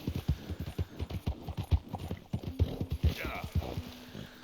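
Horse hooves clip-clop at a steady walking rhythm in Red Dead Redemption 2, a close, regular series of hollow knocks with low game ambience beneath.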